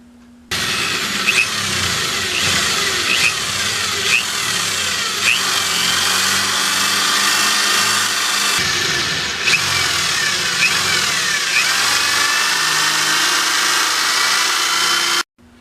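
A drill bores holes into the mounts of a Kawasaki Ninja fairing, a steady, loud whine running alone for about fifteen seconds with a brief dip partway through.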